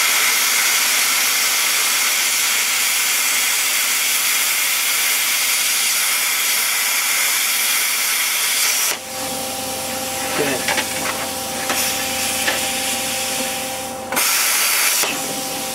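A plasma table cuts a 1/8 inch steel bar with a loud, steady hiss and roar that shifts abruptly partway through into a slightly different tone with a faint whine, continuous and close throughout.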